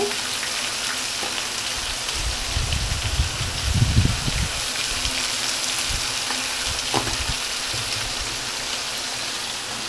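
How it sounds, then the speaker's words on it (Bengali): Potato fries in a pan with salt and turmeric. A continuous rain-like sizzle runs throughout, with a cluster of dull low knocks and stirring noises near the middle and a faint click later. "এইবার আমি দিয়ে দেবো লবণ আর হলুদ পরিমাণ মতো দিয়ে একটু ভেজে নেব"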